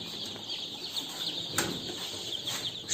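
Farm turkeys give off clucking, gobbling calls over a steady noisy background, with a few louder bursts and possible wing flaps close by.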